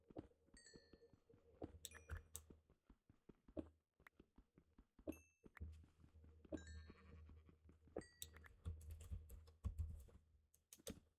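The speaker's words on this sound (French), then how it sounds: "J'ai entendu un mouton." A sheep bleats several times in Minecraft, against steady computer keyboard typing and clicking, with no speech.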